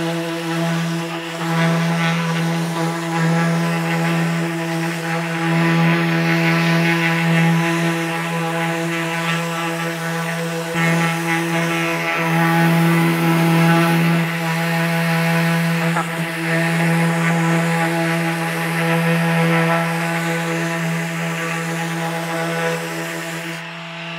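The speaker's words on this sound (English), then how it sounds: "see if this guide can actually hold a 45-degree sanding angle and how easy it is to do. So let's go ahead and lay this on my table and start sanding it." An edge held at a 45-degree angle in a Festool edge guide is sanded on a table, with a steady, loud droning hum from the sander running unbroken throughout.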